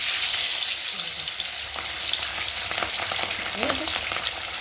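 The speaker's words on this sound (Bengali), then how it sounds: "আর এখন আমি একে একে মাছগুলো দিয়ে ভেজে নেবো, যেহেতু এই মাছ তো ভীষণ ফাটে" Whole pabda fish fry in hot oil in a kadai, giving a loud, continuous sizzle with sharp spattering pops scattered throughout, close and without talk.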